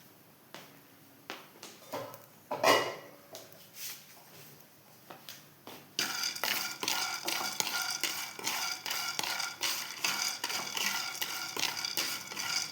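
Peanuts dry-roasting in a pan are stirred, giving quiet scattered scrapes and taps at first, then a busy, continuous rattling clatter of nuts shifting against the metal.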